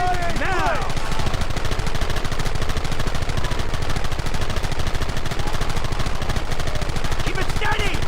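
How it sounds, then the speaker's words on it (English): Sustained, dense gunfire from many weapons in the Western video game Red Dead Redemption, loud rapid shots layered over a continuous battle din, with shouted voices breaking through at the start and near the end. "Open fire!"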